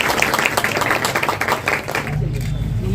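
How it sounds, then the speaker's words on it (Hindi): Audience applause at the inauguration of a security services company office, a steady dense patter of many hands clapping over the whole stretch, with a low rumble joining near the end. "ताली बजाइए।"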